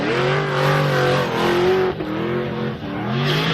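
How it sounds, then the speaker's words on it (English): A supercharged V8 BMW drift car at a Formula Drift qualifying event in Orlando, a loud sustained engine roar that rises and falls as it revs, with tire squeal and a brief dip before it climbs again. "He calls that the Monster BMW, no affiliation with the energy drink, just because it is a supercharged V8 beast under the hood."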